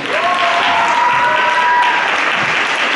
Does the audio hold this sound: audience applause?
yes